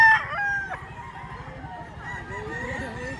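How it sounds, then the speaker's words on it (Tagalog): A rooster crows close by, a long wavering call, with other birds honking and clucking in the background. "dala yung manok"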